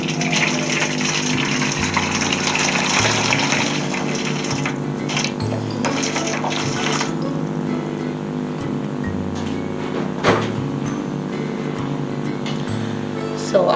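Hot water poured for a double boil to melt shea butter, a steady gushing flow running loud and continuous for several seconds with a brief splash near the end.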